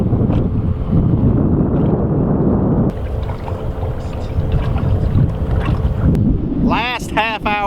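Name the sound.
wind blowing over a drifting fishing boat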